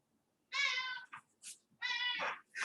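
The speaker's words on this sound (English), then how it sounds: "My cat, can anybody hear my cat?" A house cat meows close by, two long drawn-out calls with a few shorter sounds between them, clear and alone against a quiet room.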